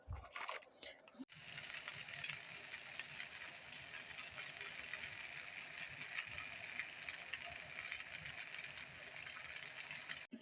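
Steady, dense sizzling and crackling of food frying in a hot pan, continuous and fairly close, after a brief clatter at the start.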